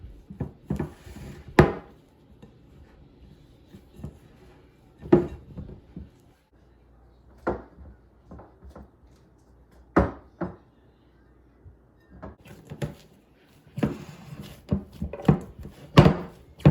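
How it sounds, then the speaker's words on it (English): Dough kneaded by hand on a table: irregular dull thumps and slaps, some single and some in quick clusters, separated by near-silent pauses. "Now I'm going to use my hands to knead the dough."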